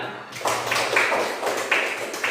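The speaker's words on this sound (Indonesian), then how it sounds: "Semuanya pintar. Tepuk tangan." Children in a classroom clap their hands together in a brief burst of dense, overlapping claps that swell and fade over a couple of seconds, fairly close, with no talk over it.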